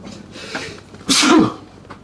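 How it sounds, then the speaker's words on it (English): A single sharp sneeze bursts out close to the microphone, preceded by a quiet breathy intake over faint room noise. "Starting to sneeze now."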